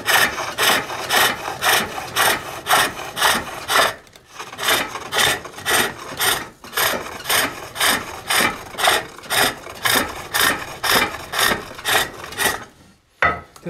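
A Swedish-style locking lidded wooden box spins on a pole lathe, the tool scraping in steady rhythmic bursts as the treadle drives it back and forth, each cut rising and falling with brief pauses between strokes, close and alone.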